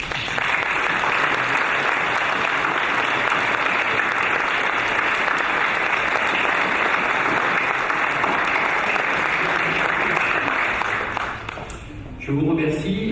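A crowd gives long, sustained applause for Red Cross volunteers at the opening of a mobile command post, loud and even clapping that keeps going for many seconds and then stops abruptly into room noise.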